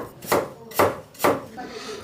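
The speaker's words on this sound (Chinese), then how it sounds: "切点萝卜" Three sharp knife chops through radish on a cutting board, evenly spaced about half a second apart, close and crisp with a light thud on each stroke.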